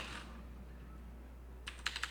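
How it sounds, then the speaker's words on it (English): A computer keyboard is typed on nearby, a short burst of quick keystrokes at the end after a quiet stretch, while option trades are being entered. "This is just crazy that we're typing this in."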